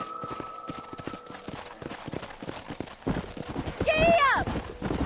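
A horse gallops in the Red Dead Redemption video game, rapid clip-clop hoofbeats up close that grow louder and end in a whinny, with a voice speaking over them.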